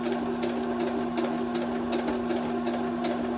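A sewing machine stitches a seam on a simple Mennonite-style dress, its steady whirring drone running close and continuous, with faint rhythmic ticks of the needle throughout.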